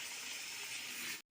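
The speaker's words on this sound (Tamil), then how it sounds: "இதில் வந்து கொஞ்சமாக தண்ணி ஆட் பண்ணுங்க," Water gushes steadily into a pan for about a second, a close, full rushing pour that stops abruptly.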